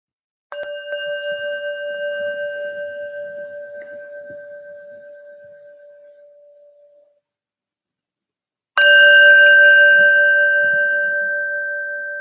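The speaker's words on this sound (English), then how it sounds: "We're going to tap the bell." A meditation bell is tapped twice, several seconds apart. Each clear, pure ring sustains and slowly fades toward silence in a quiet space.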